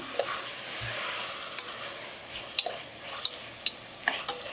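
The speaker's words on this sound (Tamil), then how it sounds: "இதுக்கு கொஞ்சம் உப்பு போட்டுடலாம் இந்த தக்காளி வதங்கிறதுக்கு" Tomatoes with salt sauté in a pan, a soft steady sizzle broken by a series of sharp spoon scrapes and knocks against the metal as they are stirred.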